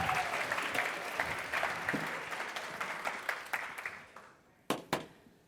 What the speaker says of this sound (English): Let's give our volunteers and everybody a round of applause.